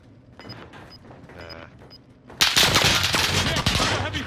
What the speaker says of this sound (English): heavy fire here